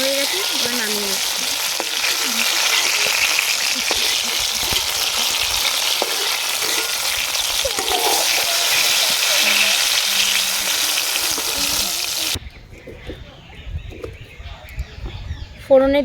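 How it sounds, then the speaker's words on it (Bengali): Nigella seeds and spice paste hit hot oil and sizzle loudly and continuously at close range for several seconds before the frying noise suddenly drops away, leaving quieter kitchen sounds and faint bird chirps. "ফোড়নে দিয়ে দিচ্ছি কালো জিরে, আর করে রাখা মশলাটা দিয়ে দিচ্ছি।"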